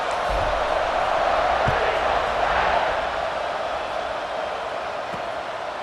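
A video game stadium crowd at an American football game roars steadily as a broad wash of cheering and noise, loud and continuous throughout, with faint low thumps underneath.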